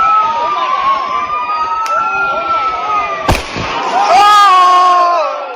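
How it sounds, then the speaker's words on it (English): A shouting street crowd confronts retreating police while fireworks are fired at them. Whistling tones rise and fall over the din, and one sharp, loud bang cuts through midway before the noise swells again. "And shooting fireworks at police."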